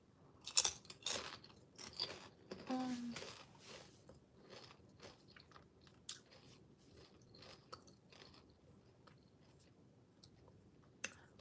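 Spicy sweet chili potato chips crunched and chewed up close, a few sharp bites followed by quieter irregular chewing and small clicks, with no talking.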